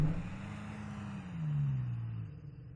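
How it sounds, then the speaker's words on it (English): A 2022 Toyota Tacoma TRD Pro spins its tires in mud off-road, the engine droning low and swelling as it revs, then easing back, close and continuous. "Try to clear those lugs out with some wheel spin."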